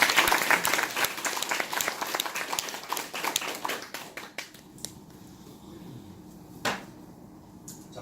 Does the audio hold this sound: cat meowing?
no